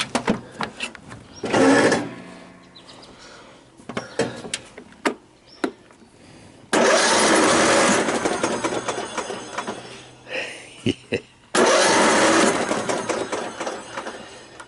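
Old Sears garden tractor engine, left as junk and suspected of a stuck valve or blown head gasket, cranking in several loud bursts of churning starter whir separated by quieter clanks, without clearly catching.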